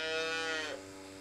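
A single loud, drawn-out moo from fat cattle at feeding time on a dairy farm, close up, fading near the end.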